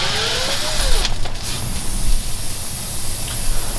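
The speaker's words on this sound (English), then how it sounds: "Here's the air coming out." Air hisses steadily out of a punctured car tire after a screw is pulled from it, a loud, close, continuous rush with a few small bumps and scrapes.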